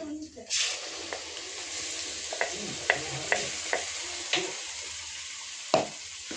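Home-ground masala going into a hot pan of river fish curry in a Maharashtrian village kitchen: a steady close sizzle with a few sharp ticks and clinks of a spoon against the pan, no speech over it.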